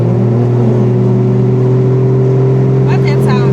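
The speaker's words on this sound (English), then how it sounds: "What's that sound that car was making?" Loud, steady engine drone with a strong low hum, like a car revving in place close by; a voice briefly sounds near the end.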